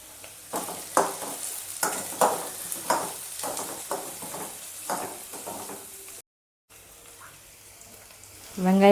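Onions and curry leaves sautéing in oil for a Kerala-style mutton stew, a steady sizzle broken by repeated stirring scrapes and clatters in the pan, with a brief gap and a louder clank near the end.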